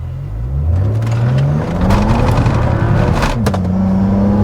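A BMW E92 with the N54 engine accelerates hard from a standstill on a rough surface, its loud, close engine note climbing steadily through the revs with a brief dip partway as it gathers speed.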